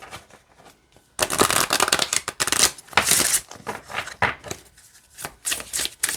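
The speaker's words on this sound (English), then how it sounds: "And then you can shuffle it this way as well" Affirmation cards from a larger-size deck riffled and shuffled repeatedly, a dense papery flutter in quick bursts, close and fairly loud, with softer handling sounds before and after.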